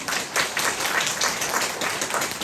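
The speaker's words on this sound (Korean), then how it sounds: "여러분 박수 한번 쳐야 돼요" Steady clapping from a church congregation at a Saturday prayer meeting, a dense, even patter of many hands filling the room without pause, no voices over it.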